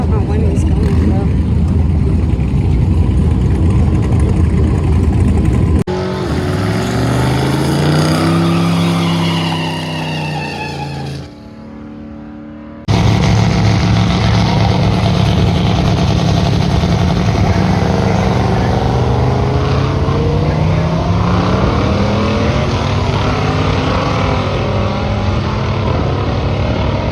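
A race car engine roars loud and close during a bracket racing time trial at Rocky Mountain Raceweek. It drones steadily, drops to a lower idle, cuts briefly, then returns with rising engine tones that sweep upward.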